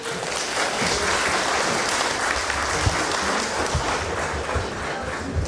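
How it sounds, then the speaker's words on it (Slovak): Audience applause for a student skit at a Slovak high school ribbon ceremony in Námestovo, with steady, dense clapping from a large crowd that holds evenly throughout and no speech over it. "podporte ich potleskom"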